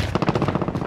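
Rapid automatic gunfire in a multiplayer video game, a tight burst of about a dozen evenly spaced shots, close and punchy, filling the moment.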